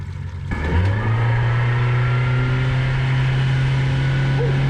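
A 90-horsepower outboard boat motor on Carters Lake drones steadily and loud after a brief start, its pitch climbing then holding level as the boat runs at speed, with no talk.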